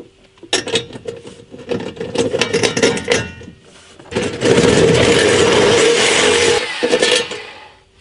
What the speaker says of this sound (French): Alors on va les percer mon chef.